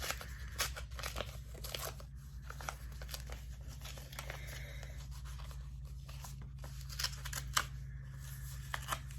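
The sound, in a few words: ripping open a package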